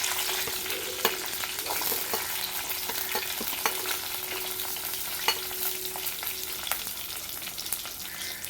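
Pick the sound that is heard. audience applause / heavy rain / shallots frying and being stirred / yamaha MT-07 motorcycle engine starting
shallots frying and being stirred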